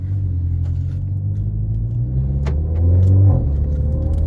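A Renault Megane 4 RS Trophy with a stage 2 tune drives on the road, its engine and exhaust a loud, deep rumble heard from inside the car, rising in pitch as it accelerates.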